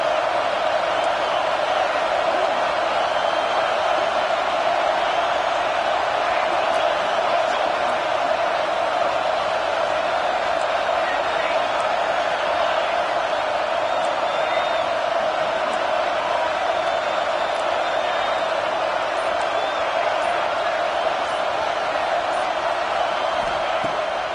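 A stadium crowd at a football game roars steadily throughout, a loud, dense, continuous wash of cheering that stays fairly level from start to finish.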